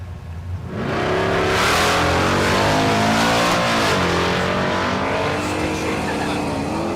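A 4th gen Camaro drag car in the True Street class launches down the strip at Thunder Valley in Noble, Oklahoma, its engine revving hard and climbing through gears, loud and close, with a brief tire squeal as it pulls away.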